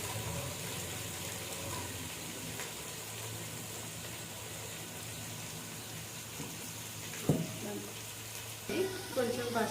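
Onions frying in a pan, a steady close sizzle with a few louder pops and scrapes near the end, and no talk over it.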